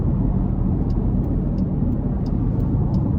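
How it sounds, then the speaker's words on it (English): A 2023 Dodge Durango SRT Hellcat with a supercharged 6.2 V8 driving, giving a steady low engine and road drone with a faint high supercharger whine above it, continuous and loud from inside the cabin. "And the supercharger whine, I can't get enough of that."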